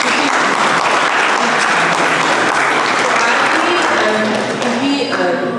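Audience applause at a school Republic Day function at DAV Senior Secondary School, Hoshiarpur: loud, dense, sustained clapping from a crowd that continues without a break and eases slightly near the end.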